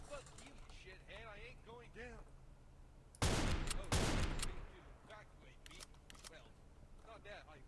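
Gunfire in Doom breaks out midway as a dense, loud burst of rapid shots lasting about a second and a half, after stretches of speech-like chatter before and after.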